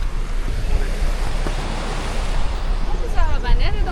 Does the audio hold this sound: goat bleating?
no